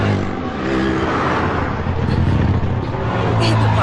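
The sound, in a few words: road traffic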